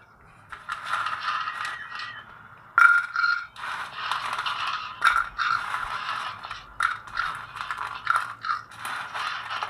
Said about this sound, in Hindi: आप सभी आवाज़ सुन सकते हैं कितना क्रिस्पी खस्ता कुरकुरे बना है।